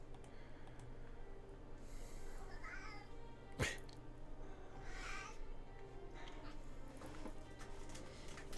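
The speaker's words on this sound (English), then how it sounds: "The cats are making noises." Cats meow a few times in the background of a quiet indoor room, the short calls faint and scattered over a low steady hum.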